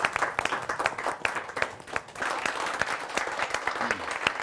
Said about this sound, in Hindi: एक बार जरा हम जोरदार तालियों के साथ स्वागत करें भाई रसिक गुप्ता